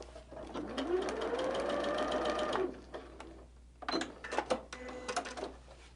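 A sewing machine stitches an appliqué border in a test run with a slightly longer stitch length, giving quick mechanical whirring bursts, a longer run and then short stop-start stitches, close and fairly quiet.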